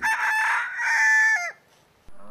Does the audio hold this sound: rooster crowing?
yes